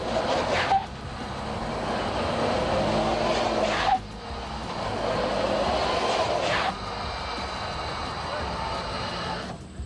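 A four-wheel drive Dodge Dakota runs a grade-climbing test on rollers, with a steady broad engine and drivetrain drone interrupted by brief drops and surges every few seconds, under a voice.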